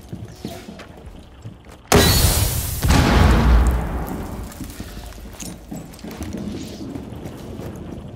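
A frag grenade goes off in Rainbow Six Siege, a sudden loud blast at about two seconds followed by a second burst and a rumbling, debris-filled decay that slowly fades.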